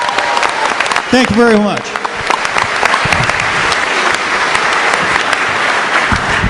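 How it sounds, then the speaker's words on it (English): A large crowd applauding steadily throughout, with a voice speaking briefly over the clapping. "Give them a round of applause."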